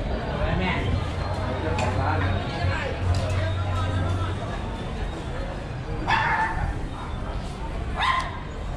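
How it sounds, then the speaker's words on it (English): Several dogs barking and yipping at night down a dark back alley in Bangkok, bursts of barks near and farther off over street hubbub and a low hum, with a person talking at times. "Dogs."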